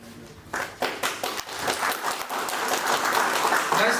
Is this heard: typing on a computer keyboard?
no